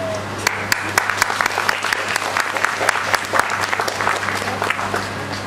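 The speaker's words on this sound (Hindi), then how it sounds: "मैं चाहूँगा कि इन दोनों लोगों के लिए एक जोरदार ताली बजाएं।" An audience at a theatre play claps loudly, a dense sustained burst of many hands with sharp individual claps standing out throughout, with a faint murmur of voices underneath.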